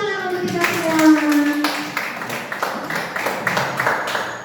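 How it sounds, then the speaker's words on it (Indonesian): Teachers and staff at an elementary school event clap together in a sharp, uneven burst, with a voice and a sustained tone at the start and scattered claps trailing off. "tepuk tangan untuk kita semua"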